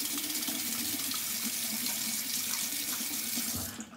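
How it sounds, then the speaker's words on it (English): Warm tap water runs steadily into a sink as double-edged safety razor blades are rinsed, a close, continuous hissing splash that tapers off at the end. "I like to just rinse them off with a little bit of warm water"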